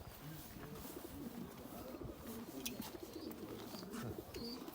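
Many breeding pigeons in a large coop coo together in a low, overlapping chorus, a continuous soft burbling close by with occasional faint rustles.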